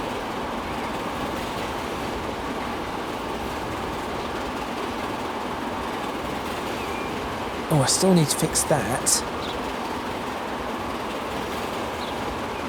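A steady, moderately loud rolling rumble of a train running in Transport Fever 2 fills the whole stretch, with someone speaking briefly over it partway through.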